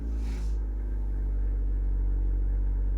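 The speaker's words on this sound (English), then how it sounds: "They just own a loud car." A neighbour's loud car engine rumbles steadily and deeply throughout, close by and continuous, with a brief hiss near the start.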